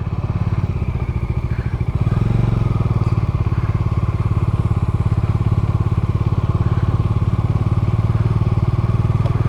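A heavy motorcycle engine thumps steadily and loudly on an unpaved dirt road, revving up after a couple of seconds, with rattling and clatter from the rough ride.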